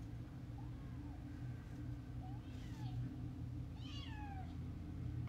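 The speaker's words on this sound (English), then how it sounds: "Not the cat screaming." A cat meows loudly a few times indoors, sharp rising and falling cries over a steady background hum.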